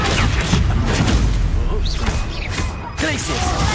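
Magical Confringo fire blast spell from Hogwarts Legacy, a booming burst with whooshing, crackling impacts amid a dense clash of other spells and effects, loud and close.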